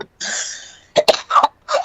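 Several coughs from a podcast host: a drawn-out breathy opening followed by a cluster of sharp, close coughs in quick succession, with no speech.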